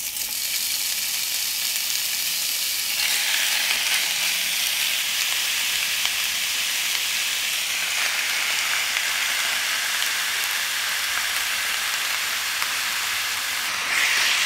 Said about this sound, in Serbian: Ulje se zagrejalo i pržim sada meso.